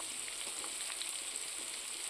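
Food seasoned with turmeric, sugar and salt fries gently in a pan, a steady close hiss with faint crackles throughout and no talking.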